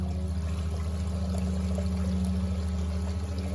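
Water pumped through a motorized pump into a gold sluice, a steady pouring, rushing flow over a constant mechanical hum, close and continuous without talk.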